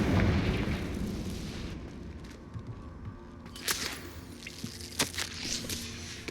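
A Confringo fire spell blasts in Hogwarts Legacy with a loud, rumbling burst that slowly dies away. Several sharp cracks and thuds follow, scattered through the quieter tail.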